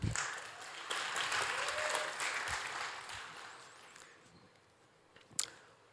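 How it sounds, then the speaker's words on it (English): Applause from the audience for a start-up presenter at TIF2025, dense clapping that swells then tapers off, ending with a sharp thud or clap near the close. "Give a little bit more applause"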